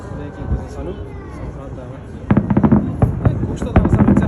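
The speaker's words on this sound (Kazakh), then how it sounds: "Салют." Fireworks display over an island beach: sharp repeated bangs and crackling bursts start partway through and follow in quick, irregular succession, over a murmur of crowd voices and people talking.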